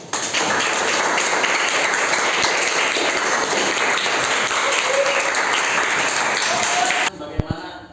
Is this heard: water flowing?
no